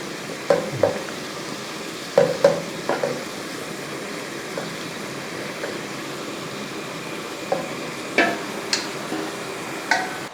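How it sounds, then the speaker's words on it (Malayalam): Masala-coated bones fry in a hot pan, a steady low sizzle broken by a few sharp spoon knocks and scrapes at intervals, close by and with no voices. "മസാലയൊക്കെ പുരട്ടി വെച്ചിരിക്കുന്ന എല്ല് നമുക്ക് ഇതിൻ്റെ അകത്തോട്ട് ഇട്ട് കൊടുക്കാം"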